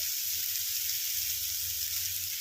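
Onions frying in mustard oil with a little salt, a steady, even sizzle that holds at one level throughout, close by and alone with no voices.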